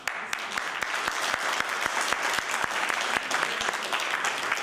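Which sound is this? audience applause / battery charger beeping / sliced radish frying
audience applause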